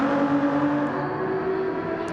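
A loud race car engine in Gran Turismo 7 at Fuji drones steadily at high revs, a sustained racing-car whine with slight pitch shifts and no talking.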